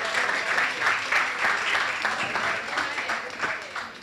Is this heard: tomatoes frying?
no